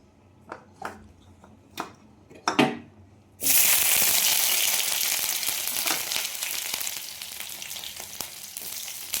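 A few faint clicks, then a sudden loud, steady sizzle as vegetables hit a hot pan and keep frying close by.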